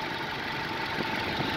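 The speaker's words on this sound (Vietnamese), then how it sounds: "Máy nổ rất êm." Steady idle of a 2007 Toyota Innova G engine, a low continuous hum and rumble with even, smooth firing at close range, heard alone without any talking.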